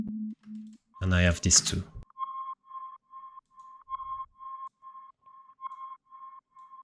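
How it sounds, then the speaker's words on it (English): Short sine-wave synth blips made in Serum with a slight attack serve as a deep techno lead. After a man's brief spoken line, clean pitched blips repeat in a steady, sparse rhythm. "This is just a sine wave that I play with a little bit of attack."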